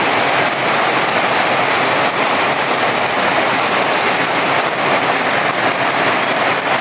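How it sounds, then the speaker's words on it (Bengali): Steady morning rain pours down over a village, a dense, continuous hiss of falling water with no pauses and no voices, close and fairly loud throughout. "সকাল সকালে আজকে এই সাত সকালে বৃষ্টি হলো"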